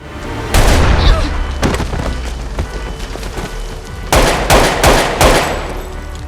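Loud, close gunfire in several rapid bursts and volleys, with sharp cracks separated by brief pauses and no voices.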